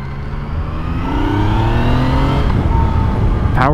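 A Yamaha FZ-09 motorcycle pulls hard under acceleration on a first ride while still being broken in, its engine note rising in pitch through a steady, loud, close roar that climbs continuously with no voices.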